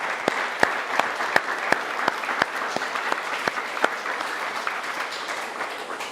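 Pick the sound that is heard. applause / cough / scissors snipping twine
applause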